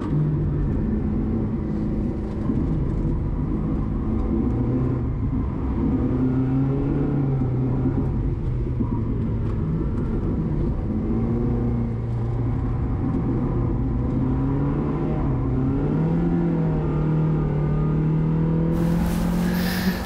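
A 100-horsepower Trabant 1.3 with its factory engine on a fast timed lap, its engine droning loud and steady with rising and falling pitch as it accelerates and shifts, no voices heard.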